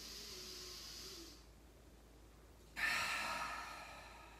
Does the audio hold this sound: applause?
no